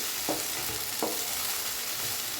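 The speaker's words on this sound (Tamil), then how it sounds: "அதில் இதை போட்டு நம்ம நல்லா வறுக்க போகிறோம்" Turkey berries (sundakkai) frying in a pan, a dense steady sizzle with three evenly spaced stirring scrapes.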